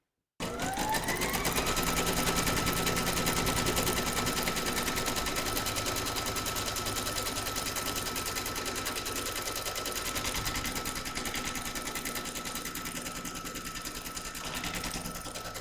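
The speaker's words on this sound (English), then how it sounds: "Pop your hoop into your machine and stitch round number 2 to secure it." An embroidery machine stitches an outline round on a hooped glasses case, running a loud, continuous, rapid needle rattle from start to finish with no talking.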